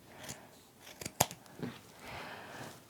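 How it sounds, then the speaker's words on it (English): Regular scissors cut through knit sweater fabric being trimmed for a throw pillow, giving a few close, crisp snips and crunchy shearing sounds over a quiet room. "I'm just going to cut that with my regular scissors"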